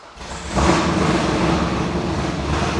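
A naturally aspirated 800-horsepower American Corvette running nitrous (NOS) lets out a loud, close engine roar that swells sharply after a brief lower lead-in and then holds as a steady, dense blast to the end.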